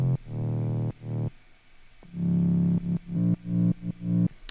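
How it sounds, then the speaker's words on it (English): Synthesized mid bass layer from an electronic music production, playing as a series of loud, sustained distorted notes with short gaps and a rhythmic pattern of stabs toward the end, with no voices over it. "It's just a mid bass layer that sounds like this."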